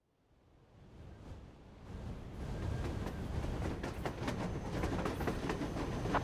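Railcar rolling along tracks in Metro Exodus, a steady clickety-clack rumble that swells from quiet to a sustained loud roll with repeated rail-joint clicks, no speech.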